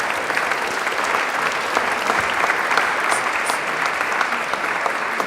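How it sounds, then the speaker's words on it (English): An audience at a panel event about artists applauds, a loud, dense, even stretch of clapping that holds steady from start to finish. "Yes, round of applause."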